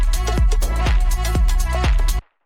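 Deep clap sample in an electronic music production, repeating in a steady rhythm over a thick sustained low-pitched musical bed, each hit bouncing in a ping pong echo, loud and close, then cutting off abruptly.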